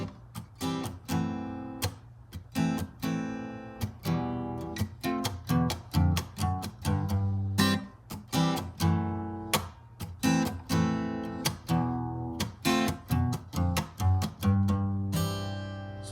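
A guitar strums a chord progression in a steady rhythmic pattern, sharp bright strokes with quick chord changes, played close and alone for the whole stretch.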